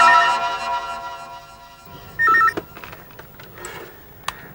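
A telephone rings in a tense indoor scene, a short burst of electronic ringing tones standing out clearly against a quieter background with scattered clicks and rustles.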